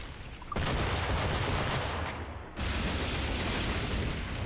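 Fire barrels explode in the naval combat of the video game Assassin's Creed Rogue. A loud, dense roar of blasts and cannon-like booms comes in two sustained bursts with a short dip between them.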